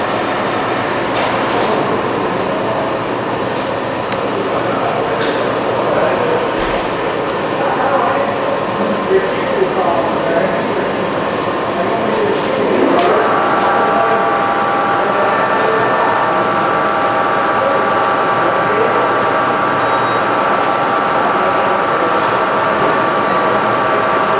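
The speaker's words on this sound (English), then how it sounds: "Cutting threads right now." A machine tool turret cutting threads gives a loud, steady mechanical hum and whine with a faint rattle and a shift in pitch midway, running continuously throughout.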